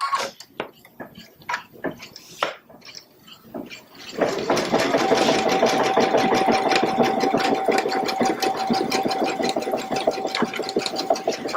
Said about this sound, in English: So I'll just put my foot down and start the embroidery.